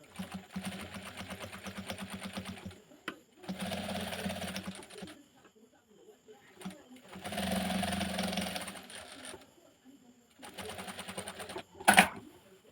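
Sewing machine stitching a churidar neck with a quarter-inch presser foot, running in four bursts of rapid rhythmic whirring separated by quiet pauses, with a brief sharp sound near the end.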